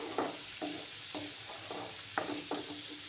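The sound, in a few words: sautéing spices with Kashmiri chili powder for doi begun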